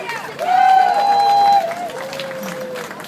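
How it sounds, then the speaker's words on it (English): Crowd at an emergency anti-war rally cheering and clapping, a loud swell of mixed voices and applause rising after a moment and easing off, with a strong whistle or sustained shout riding on top. "Cheering for Charlotte!"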